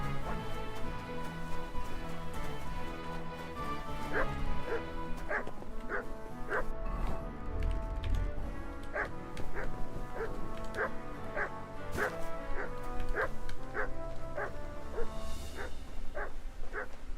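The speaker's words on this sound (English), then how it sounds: "Sit and bark." Dog in the video game Kingdom Come: Deliverance 2 barking repeatedly in a quick, fairly regular series of sharp, close yips and barks over a steady background of game music and ambience.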